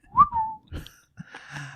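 The character Hugh Winterbourne whistles a short, loud, close melodic phrase, a clear tonal whistle followed by fainter breathy and rustling sounds.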